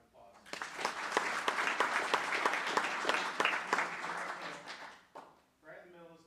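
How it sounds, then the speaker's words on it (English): A room at a board of education meeting breaks into applause, sharp individual claps standing out within the crowd's clapping before it dies away, followed by a brief voice. "So let's give her a round of applause."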